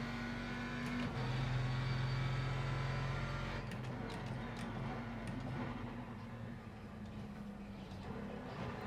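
Car engine in a racing sim video game played with an Accuforce Pro wheel, a steady droning engine tone that shifts pitch with gear changes, faint and continuous.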